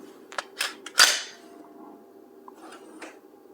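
A Walther PDP Pro Compact pistol gives a quick series of sharp metallic clacks as its slide is racked, several close crisp snaps followed by a couple of fainter clicks.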